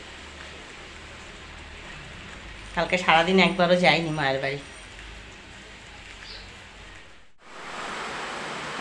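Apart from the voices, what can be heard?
rain falling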